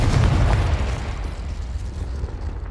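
In the video game Hogwarts Legacy, a Confringo explosion spell goes off with a loud, deep booming burst that rumbles and slowly fades over a couple of seconds, with no voices over it.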